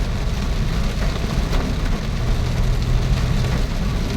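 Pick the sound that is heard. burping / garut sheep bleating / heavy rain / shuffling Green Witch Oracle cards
heavy rain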